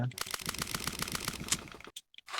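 An AS VAL rifle firing full auto in the firearm simulator World of Guns, a fast even stream of muffled shots lasting nearly two seconds before cutting off, followed by a couple of faint mechanical clicks.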